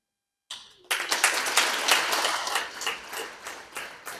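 An audience applauds at a memorial service for Pastor Ezra Mpyisi, the clapping starting abruptly after a brief silence and continuing as dense, close, irregular claps for several seconds.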